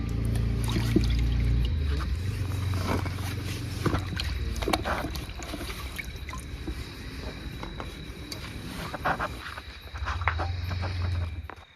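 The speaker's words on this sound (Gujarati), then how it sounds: "તો આપણે કેરીઓને સરખી રીતે ધોઈ નાખીશું।" Raw mangoes being rinsed and swished by hand in a water-filled vessel, a steady splashing and sloshing with louder surges at the start and end, heard up close with no talking.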